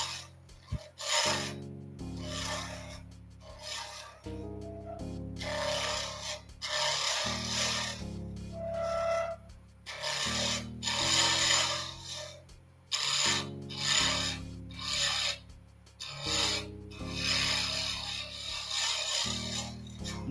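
A carbide tool roughs down an acrylic pen blank on a lathe, giving a steady, close raspy scraping. Passes come and go in repeated bursts, and a low motor hum runs underneath.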